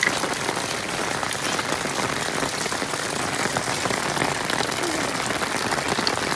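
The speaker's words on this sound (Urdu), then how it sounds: "بارش تو اللہ تعالیٰ کی رحمت ہے، لیکن یہ اتنی زیادہ بارش ہے نا کہ دل گھبراتا ہے" Heavy rain pours down in a dense, constant hiss that stays loud and even throughout, with no talking.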